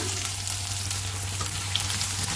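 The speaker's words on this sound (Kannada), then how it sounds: "ಈರುಳ್ಳಿ ಗೋಲ್ಡನ್ ಬ್ರೌನ್ ಆಗೋ ತನಕ ಇದನ್ನು ಫ್ರೈ ಮಾಡ್ಕೊಳ್ಳೋಣ." Chopped onions frying in hot oil in a kadai, a loud continuous dense sizzle with fine crackle, close and steady with no talking.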